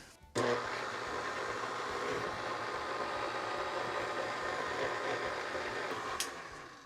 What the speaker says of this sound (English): I kind of let the dough hook mix my eggs first